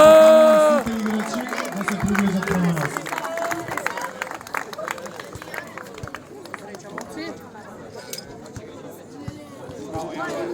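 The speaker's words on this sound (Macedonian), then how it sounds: "Молам еден голем аплауз за нив." Crowd at an outdoor football tournament in Jegunovce applauding the winning team, a sustained wash of clapping and cheering that starts after a brief spoken announcement and continues steadily, with voices chattering underneath.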